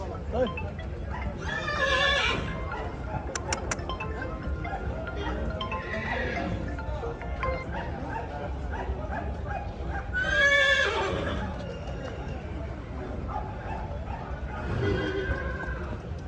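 Young Marwari horses neigh repeatedly, several loud whinnies rising at intervals, with a dog barking now and then and people talking throughout.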